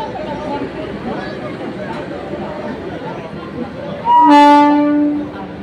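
A train rumbles past nearby with a continuous rolling roar, then a loud, tonal horn blast sounds near the end for about a second, under faint background chatter.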